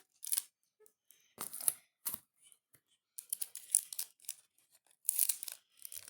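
A notebook flap being pulled open, with a series of soft papery rustles, crinkles and small tearing scrapes in short bursts, close and quiet with no talk.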